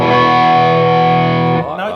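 A loud, thick electric guitar chord through an Ibanez TS808 Tube Screamer overdrive pedal sustains for most of the moment, then shifts into a few shorter notes at the end.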